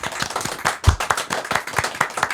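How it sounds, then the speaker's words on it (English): A live studio audience on a talk show clapping and applauding a guest, a steady burst of close, crisp handclaps with one loud hit near the start. "Applause. Clap right fucking now."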